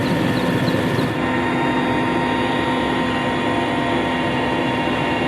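A police gendarmerie helicopter patrolling over a road near Konya, Turkey, gives a loud, continuous engine and rotor drone with steady low throb, close overhead and unbroken throughout.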